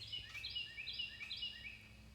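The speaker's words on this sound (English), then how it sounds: "Listen to the birds." Birds singing on a quiet rural road at high elevation, with faint, high chirps repeating rapidly over a low hum of background noise.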